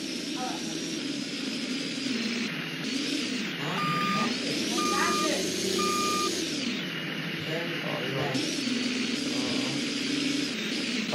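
A fire truck reversing in the Roblox game Greenville sounds a few short, evenly spaced electronic beeps over a constant engine and traffic rumble.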